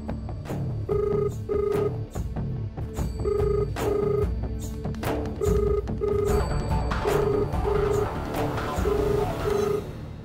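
A telephone rings repeatedly and goes unanswered, pairs of electronic ring bursts repeating in a steady rhythm over low background noise and faint indoor sounds.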